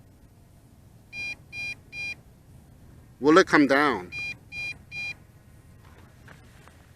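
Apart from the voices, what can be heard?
drone transmitter three consecutive warning beeps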